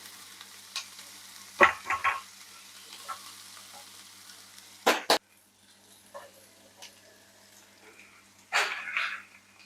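Onion and carrots fry in a pan for plov, with a few separate bursts of stirring and scraping over a quiet, faint sizzle.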